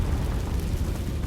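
A Confringo spell explosion in the Hogwarts Legacy video game: a short, dense, low rumbling blast that sustains at steady loudness throughout, with no voice.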